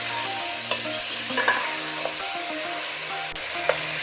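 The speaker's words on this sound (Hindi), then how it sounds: "ये देखिए, इसको अच्छे से मैं भून रही हूँ।" Chicken for an Afghani chicken karahi stir-fried in a karahi over medium heat: a steady, close sizzle runs throughout, broken by scraping spoon strokes and a few sharp metallic clinks, with no talking.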